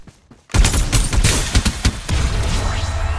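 Gunfire in the mobile battle game Farlight 84, played on an iPad mini 6: a loud, dense burst of rapid automatic shots with sharp repeated cracks, beginning abruptly after a brief quiet moment and continuing nonstop.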